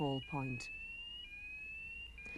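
A shrill, continuous electronic fire alarm tone sounds after a brief voice at the start, holding steady and piercing throughout.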